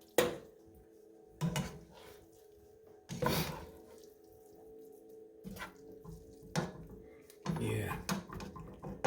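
Shrimp arrabbiata being tossed together with angel hair pasta in a pan, giving intermittent wet scraping and clinking bursts of utensil against pan, with quiet pauses between stirs.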